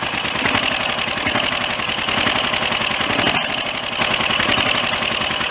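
A Triumph Trident motorcycle engine idles steadily at a close, even tickover after its carburettor pilot passageway was cleared, with a loud, continuous rhythmic pulsing and no talk.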